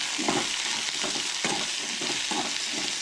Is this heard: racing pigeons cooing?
no